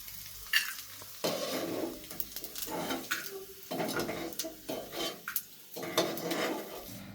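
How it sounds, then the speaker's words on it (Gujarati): Food frying in a pan while making Kathiyawadi kachariyu, a steady sizzle broken by repeated scrapes and clinks of a spoon stirring against the pan, close and moderately loud. "સરખો તળાઈ જાય એટલે એને આપણે કાઢી લેશું."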